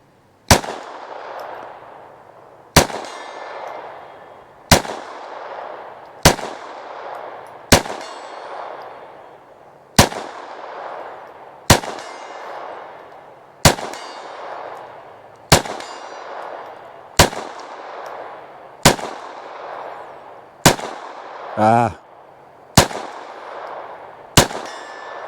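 A SIG P322 .22LR pistol fires about fifteen sharp, evenly spaced shots at a 50-yard range target, each crack ringing out with a short decay, with one louder, ringing metallic impact partway through.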